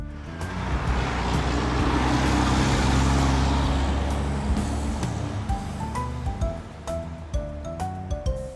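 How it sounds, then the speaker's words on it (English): An asphalt paver at work on a road build, a loud, broad rumbling engine roar with grinding machinery that swells and fades, close by, with scattered clanks and beeps toward the end. "Asphalt paver."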